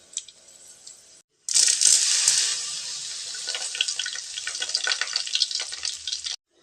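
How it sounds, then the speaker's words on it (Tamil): Crackling, popping sizzle of mustard seeds spattering in hot oil, loud and continuous after a brief quiet start, with dense rapid pops throughout. "கடுகு நல்லா பொரிஞ்சிடுச்சுங்க"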